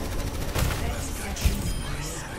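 Gunfire from a video game crackles in a quick burst with a few heavier impacts, sitting under steady background noise with people talking over it.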